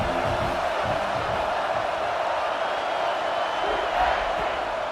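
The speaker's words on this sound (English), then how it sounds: "This crowd bringing the energy and noise early." A packed stadium crowd at an Alabama football game roars in a steady, broad wash of cheering and shouting, distant and continuous, with a faint voice mixed in.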